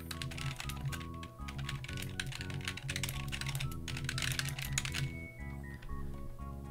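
Rapid, steady clatter of keys on a computer keyboard as a short git commit description is typed, close and continuous over a low background music bed, easing off near the end.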